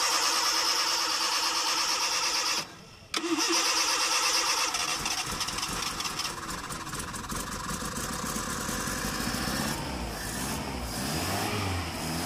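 A 1996 Hindustan Contessa Classic car, being started after sitting for eight months, cranks and catches, then its engine runs loud and close for a long steady stretch after one brief drop.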